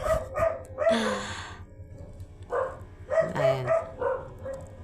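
Several sharp dog barks and yips come in irregular clusters, close by, with short gaps of quiet between the bursts.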